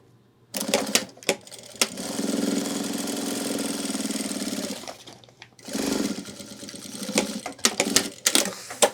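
Sewing machine running a seam on an ultralight hiking backpack, one steady three-second burst of rapid stitching, then a pause and a shorter run with a few separate clicks and bumps as the fabric is handled.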